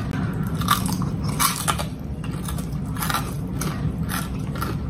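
Repeated crunchy bites into crispy fried chicken, sharp crackling bursts close to the mic over a low background, spaced about every half second to a second.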